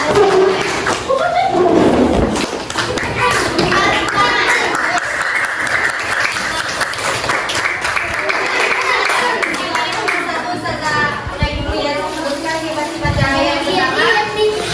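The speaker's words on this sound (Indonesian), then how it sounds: "tepuk tangannya" Classroom applause in a full-day elementary school, a dense sustained burst of many hands clapping that carries on for the whole stretch, with voices mixed in.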